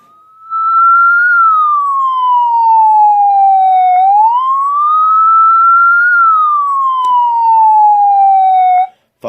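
Loud, clean electronic wail siren tone from a Freighter siren and speaker combo, rising and falling slowly in two long sweeps, close and alone, cutting off abruptly at the end.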